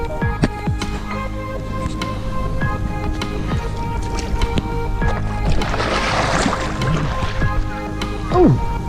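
Water sloshes and gurgles at a local public swimming pool in Vientiane, Laos, with scattered splashes and a louder burst near the end; a voice occasionally talks over the watery movement.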